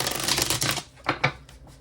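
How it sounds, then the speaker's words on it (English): A deck of oracle cards is shuffled by hand, a close, dense riffling flutter for under a second, then a few separate soft card slaps. "I'm going to shuffle real quick."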